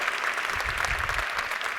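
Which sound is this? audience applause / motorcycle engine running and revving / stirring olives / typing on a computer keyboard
audience applause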